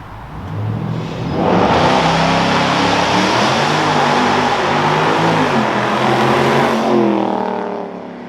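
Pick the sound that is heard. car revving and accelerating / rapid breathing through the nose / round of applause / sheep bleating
car revving and accelerating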